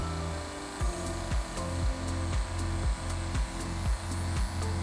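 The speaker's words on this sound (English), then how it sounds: "just make sure your clipper is straight and just follow that line" An electric hair clipper cutting a half fade comb over gives a steady close buzz, with about eight regular strokes roughly every half second as it is drawn down the head.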